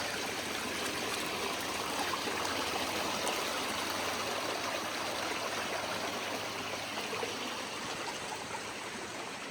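A stream along the Appalachian Trail rushes and burbles steadily, a constant dense wash of flowing water close by, with no voices.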